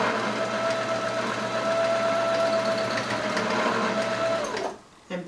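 A sewing machine runs steadily while backstitching fabric for wide-leg pants, a close continuous whirring hum that stops near the end with a couple of soft clicks.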